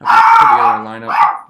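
A dog barks and howls somewhere in a home, reacting to someone outside. The sound is loud and close, mixed in with someone talking.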